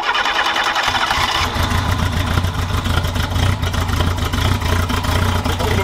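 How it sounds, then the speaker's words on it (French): A Renault 4L prototype engine cranks and catches, then settles into a loud, close, steady rumbling idle with a pulsing rhythm, no talking over it. "Bon, et ta 4L elle démarre"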